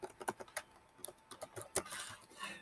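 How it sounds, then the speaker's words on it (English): Quiet typing on a computer keyboard, a run of soft, irregular key clicks close by with short pauses between bursts. "So I'm just gonna type in mascots down here."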